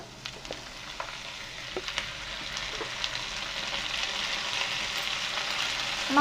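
Ivy gourd sautés in a pan with onion and green chilli, a steady sizzle with occasional stirring clicks and scrapes, building slightly louder toward the end, with no talking.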